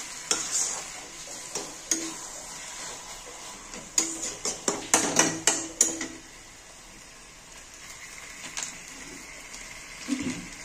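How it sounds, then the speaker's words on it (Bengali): A spoon scrapes and knocks around a cooking pan as ginger paste is stirred in, with a burst of rapid clatters midway, a quieter sizzling stretch, then a few more strokes; no talking. "এবার আমি একটু আদা বাটা দেব, একটু সামান্য নেড়ে দেব"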